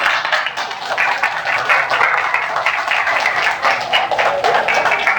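An audience clapping after a play, a loud, full wash of many hands in steady applause that carries on throughout, with no voices over it.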